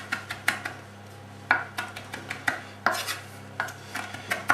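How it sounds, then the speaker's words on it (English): Knife chopping fresh rosemary leaves on a board for a lamb shoulder dish, a quiet series of crisp taps in irregular rhythm over a steady low hum, with no talking. "So now what I'm going to do is I'm going to chop these leaves."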